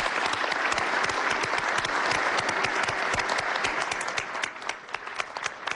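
Loud, dense applause from a conference audience for President Evo Morales of Bolivia, sustained clapping throughout with individual sharp claps standing out as it thins slightly toward the end.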